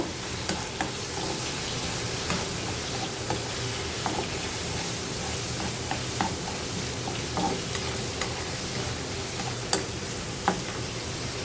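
Vegetables and prawns sautéed in a pan for a sweet and sour prawn dish, a steady close sizzle of frying with scattered light ticks and scrapes of stirring throughout, no talk.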